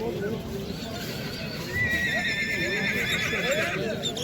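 A horse neighs at a horse market in Nookat, giving a high wavering whinny partway through. Crowd murmur and talk run beneath it.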